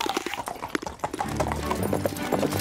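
A princess's horse walking, its hooves clip-clopping in a quick, steady rhythm close by, with a low rumbling sound rising beneath the hoofbeats partway through.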